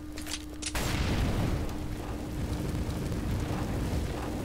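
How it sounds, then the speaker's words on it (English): An incendiary grenade bursts in CS:GO on the Dust 2 map, a sudden loud whoosh that swells into a steady, roaring crackle of fire lasting several seconds after a few short clicks. "Any of the double doors on this map are a great bottleneck to throw your incendiary grenade."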